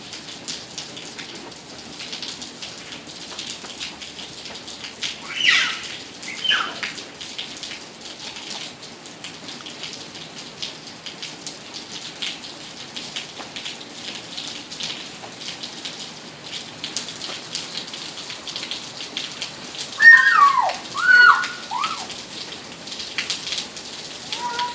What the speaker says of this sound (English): Okay, go get in the rain.